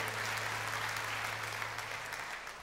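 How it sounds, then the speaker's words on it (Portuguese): Church congregation applauding during a worship service, a steady wash of dense clapping filling the room at close range throughout. "Aplauda o Senhor"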